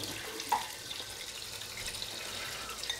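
A shaving brush is rinsed under a running tap to wash out hand soap, a steady moderate stream of water with a brief splashy knock near the start.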